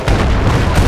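A tank blowing up in Battlefield 3, a loud continuous booming roar of explosion with deep low rumble lasting under a second, close and intense.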